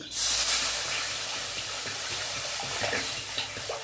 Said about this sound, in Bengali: কড়াই গরম হয়ে গেছে কড়াইতে দিলাম জল